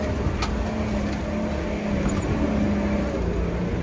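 A car labours up a steep track on a firewood-gathering trip, its engine droning steadily and close by with a low, even hum and no break in the sound.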